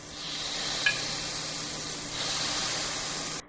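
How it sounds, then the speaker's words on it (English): Clarified butter hits a hot steak pan and sizzles: a steady, moderately quiet frying hiss that runs throughout, with a small pop near the start and a slight swell past the midpoint before it cuts off. "I'm going to take this clarified butter, which we just made, and I'm going to add it to the pan."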